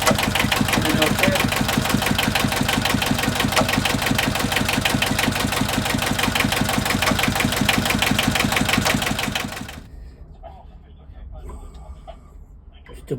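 A solid diesel engine nearly 17 years old runs steadily with a dense, rhythmic knocking chug for about ten seconds. It then drops away abruptly, leaving faint background noise.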